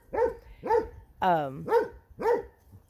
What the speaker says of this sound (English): these dogs over here was barking